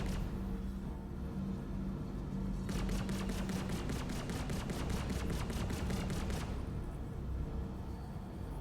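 Turret gunfire in the Star Citizen game, a steady burst of about fifteen evenly spaced rapid shots over a constant low engine hum, with quieter background noise before and after.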